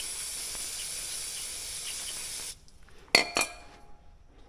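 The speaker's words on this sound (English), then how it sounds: "So I'm just gonna hose this sucker off there." A vehicle is hosed down with a steady, loud hiss of water spray that cuts off abruptly partway through, followed by a couple of sharp clinks and quiet handling sounds.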